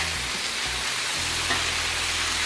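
Garlic shrimp sizzle steadily on a hot griddle as they crisp up, a continuous dense frying hiss close by with no voices.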